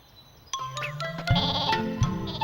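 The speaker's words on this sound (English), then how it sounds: "All my sheep fell over." Cartoon sheep bleating in an animated comedy, several short, close, comic bleats in quick succession over a bright musical backdrop.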